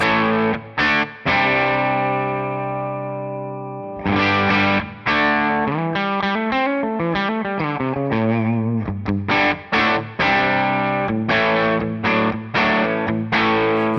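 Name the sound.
electric guitar through Tonex amp model, edge of breakup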